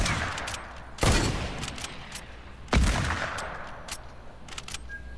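Gunfire in the Fortnite video game, two loud sharp shots a couple of seconds apart, each followed by a decaying tail, with light clicks and faint game ambience between them.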